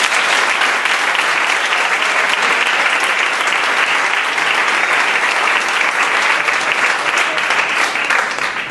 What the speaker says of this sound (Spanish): Así que un aplauso muy grande.